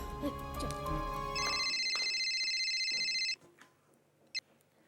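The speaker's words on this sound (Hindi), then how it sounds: "निशा को फोन करती हूँ।" A telephone rings in an indoor domestic scene, a steady electronic trill lasting about two seconds. Music and voices come before it, and a faint sound follows after the ringing stops.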